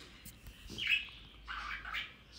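Pet birds chirp indoors in a room, a few short, high chirps spread across a couple of seconds, faint and somewhat distant.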